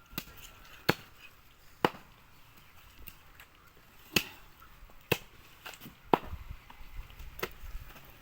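Goat mutton is chopped in a Nepali village, about nine sharp, separate blows landing at irregular intervals over quiet background noise.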